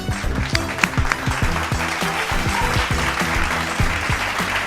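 A comedy show audience applauds steadily, a dense wash of clapping hands lasting a few seconds at moderate loudness, with no speech over it.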